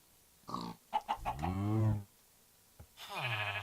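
A Minecraft sheep bleats with a long, wavering nasal cry, repeated after a short pause, close and clear over a quiet game background.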